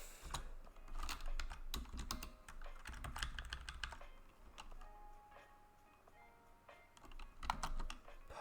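Rapid typing on a computer keyboard at a desk during live JavaScript coding, with dense clicking bursts that pause briefly midway, then resume with scattered keystrokes and a few sharper taps.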